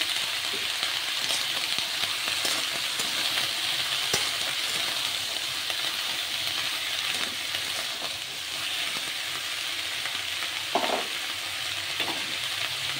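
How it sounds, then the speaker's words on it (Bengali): Grated ginger fries in a pan, likely oil, for a Bengali vegetable curry of drumstick flowers, giving a constant crackling sizzle with occasional stirring clinks, close up and without talk. "আদা হালকা করে ভেজে মশলাটা দিয়ে দিলাম এর মধ্যে।"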